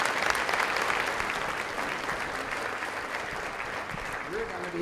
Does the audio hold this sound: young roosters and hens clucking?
no